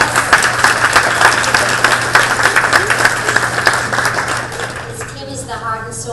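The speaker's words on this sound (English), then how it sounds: "if we could give her a big round of applause" A luncheon audience gives a big round of applause for a volunteer coordinator, dense steady clapping that fills the room for several seconds before thinning out, with a steady low hum underneath and voices emerging near the end.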